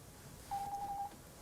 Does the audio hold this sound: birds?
no